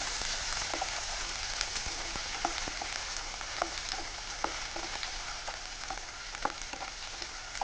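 Okra frying in a pan for sambar, a continuous dense sizzle close up with occasional small pops and light stirring, no talking.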